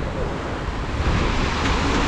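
Sea waves at Dadar Chowpatty beach in Mumbai, a steady broad wash of surf mixed with wind rumble, continuous and fairly loud without any talk.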